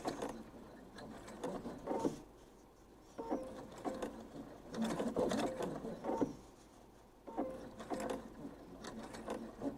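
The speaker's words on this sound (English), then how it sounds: "I'm going to do a little back stitch, so hopefully it'll stick or stay" Sewing machine running a short back stitch in quiet, intermittent bursts of fast mechanical whirring and needle clatter, separated by brief pauses.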